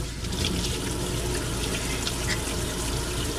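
Running tap water splashes steadily into a sink while hands are washed, a continuous close wash with no talking.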